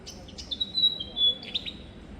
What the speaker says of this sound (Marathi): कुठे आहे हा पक्षी? कोणता आहे पण? एवढ्या रात्री 2 वाजता ओरडतोय.